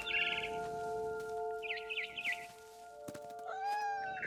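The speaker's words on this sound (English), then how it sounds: "Then I heard chirping outside my window." Swallow-like chirping bursts from a bird in the video game What Remains of Edith Finch, heard in repeated short trills over steady game music tones, with a rising call near the end.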